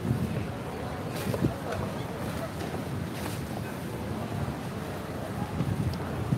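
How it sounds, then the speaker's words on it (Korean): Cold wind gusting across a microphone outdoors on a Tokyo street trip, a steady low rumble with a few stronger buffets, loud and continuous throughout. "쌀쌀한 게 진짜 바람이."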